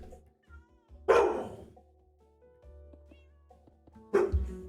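A pup at home gives two short, loud yelps or barks about three seconds apart, each clearly standing out over a quiet indoor background with faint low hum.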